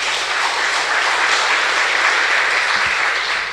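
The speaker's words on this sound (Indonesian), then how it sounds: "Tepuk tangan untuk Tuhan Yesus." A church congregation applauds in a steady, loud, dense wash of clapping during a Sunday service, with no pauses.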